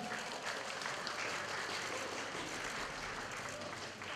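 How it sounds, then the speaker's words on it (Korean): An audience applauds at a Korean ceremony appointing an official ambassador: a thick, even roar of many hands clapping, heard at a moderate distance and sustained without a break throughout. "여러분 큰 박수 부탁드립니다"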